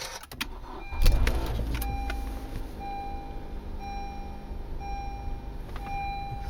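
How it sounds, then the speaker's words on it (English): A 2013 Honda Accord is started with a brief thump of ignition, followed by a low steady engine idle under repeated soft electronic chimes and beeps from the dashboard; no talking. "I'm gonna start the car."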